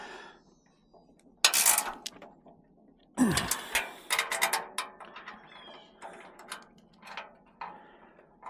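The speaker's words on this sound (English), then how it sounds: "I can go ahead and just tighten these up." A ratchet clicks in short bursts while bolts are tightened on an adjustable truck bed roll bar chase rack. Loud, close ratcheting runs are separated by pauses, followed by quieter, intermittent clicks.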